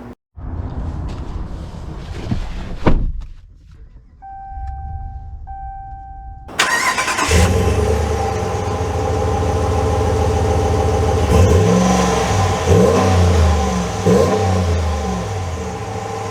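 A red 2022 Ram Rebel pickup truck sits quiet, then its engine cranks and catches loudly about two-thirds through, settling into a steady, close idle with a few brief revs.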